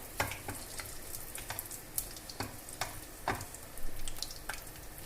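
Quiet, continuous sizzling and spluttering of hot ghee with cloves in a pan, with irregular sharp pops scattered throughout.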